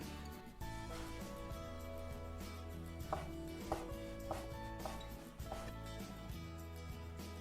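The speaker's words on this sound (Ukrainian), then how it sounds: "Ніжки нарізаємо як завгодно. Я наріжу на півкільця." A knife slices mushroom stems into half-rings on a cutting board, giving a run of quick, close knocks in an uneven rhythm, some louder than others, with no talking.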